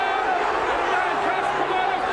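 The rugby league crowd at the Boulevard in Hull, at a Hull versus Wigan match in 2002, sends up a constant roar of massed voices. It sounds full and fairly close, with no single voice standing out.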